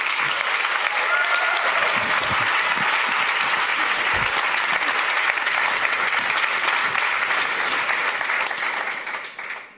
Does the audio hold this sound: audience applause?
yes